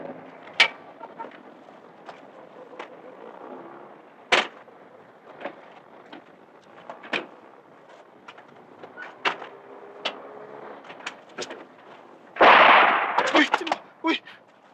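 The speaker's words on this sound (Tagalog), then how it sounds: "Putok ng baril yun ah. Mga putok ng baril ba?" Gunshots ring out in a Filipino action film scene: several sharp cracks scattered over a murmuring background, with a louder, denser burst of fire near the end.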